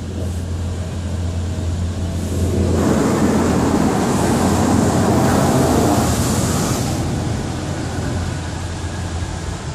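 Water sprays over a car inside an automated car wash, a steady hissing rush that swells louder midway and then eases off, heard from inside the car over a low engine hum.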